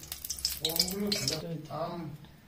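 Bhetki fish pieces shallow-frying in a pan with a steady, close crackling sizzle that runs throughout, while a person talks over it for most of the time.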